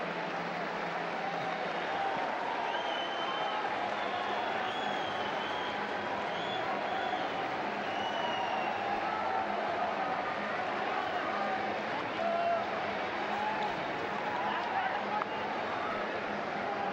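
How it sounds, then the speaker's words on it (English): A stadium crowd applauds the Pakistan team at a junior men's hockey World Cup match against India, a broad continuous wash of clapping and babble that stays steady and fairly loud throughout. "The crowd just giving a reception to the Pakistan team."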